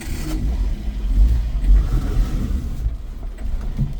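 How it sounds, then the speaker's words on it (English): A Honda utility vehicle stuck in place revs its engine, a fluctuating low rumble rising and falling in surges as the wheels spin. "The truck here is spinning so we're stuck."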